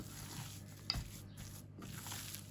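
Soft, steady stirring of a dense homemade mock-baklava dough mixture by hand in a bowl, with faint scraping and a single small knock near the middle, quiet and close.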